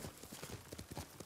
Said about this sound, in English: Let me see if I'm able to at least cross with my horse